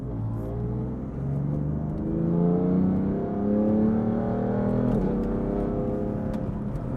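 A BMW F80 M3 in Sport Plus mode on a canyon road, its engine steadily revving and pulling through the gears while driving, with a brief shift dip midway and a continuous smooth drone, heard from inside without talk.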